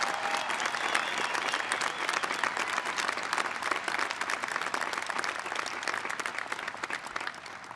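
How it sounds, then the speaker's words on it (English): Graduation ceremony crowd at Avon High School applauding those who have served, steady dense clapping from a large audience that holds evenly throughout without talk. "Let's give a round of applause for all that have served and will serve"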